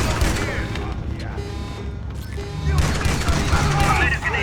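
Rapid bursts of close-range automatic gunfire from a high fire-rate weapon in a shooter video game, dense and loud throughout, with a louder burst near the end.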